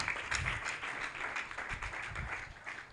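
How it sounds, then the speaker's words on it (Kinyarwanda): Church congregation applauding together, a steady, moderately faint wash of clapping that holds evenly from start to finish with no voices over it. "dukomere Imana amashyi."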